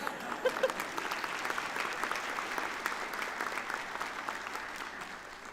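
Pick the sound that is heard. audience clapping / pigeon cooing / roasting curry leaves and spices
audience clapping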